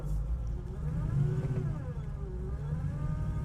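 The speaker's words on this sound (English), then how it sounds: "I'm going to give it a little gas, show you what it can do" A 1970 Chevrolet Camaro restomod with its engine revving, a steady low rumble whose pitch swells and falls across several blips of the throttle, close and fairly loud with no talking.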